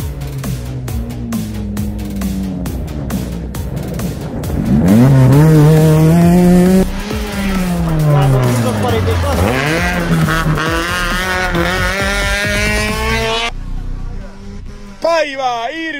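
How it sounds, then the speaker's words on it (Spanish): A number 276 rally car in the S1600 class at Rally de Los Valientes in Chincheros, Apurímac, roars past with rising and falling engine revs and gear changes, loud and close, before fading; a voice talks over it. "Coche a la vista, la 276."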